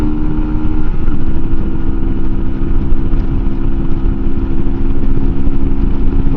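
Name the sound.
MUTT 125 adventure motorcycle engine revving to red line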